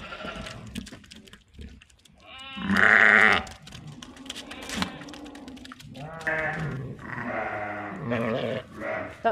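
Ewes and lambs bleating in a lambing shed, several loud close calls in bursts, one long wavering cry standing out, with rustling and movement between them.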